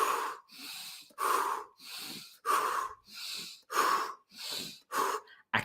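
Deep belly breaths let out one after another in a steady slow rhythm, about seven forceful exhalations close to the listener, each a loud airy rush with short quiet gaps between.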